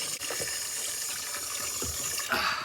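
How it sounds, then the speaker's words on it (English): A hand is rinsed in a container of water in an indoor seedling room: steady close splashing and trickling, fairly quiet, with a few brief drips and swishes and no voices. "Now I'm rinsing my hand into their water thing."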